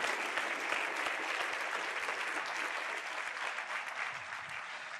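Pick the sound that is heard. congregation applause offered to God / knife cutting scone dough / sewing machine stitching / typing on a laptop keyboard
congregation applause offered to God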